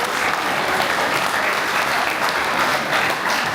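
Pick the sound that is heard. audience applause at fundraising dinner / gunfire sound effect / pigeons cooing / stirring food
audience applause at fundraising dinner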